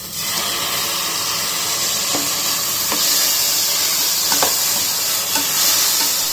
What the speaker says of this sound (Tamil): இப்போ நம்ம தக்காளி போட்டுக்கலாம்.